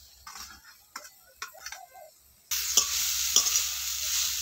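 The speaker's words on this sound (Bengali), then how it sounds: "তো প্রথমে নারকেলটা দিয়ে দিচ্ছি।" Grated coconut being stirred in a pan for pitha filling, with scattered scraping knocks at first, then a steady sizzle of frying starting halfway through, punctuated by a couple of spatula taps, fairly close and moderately loud.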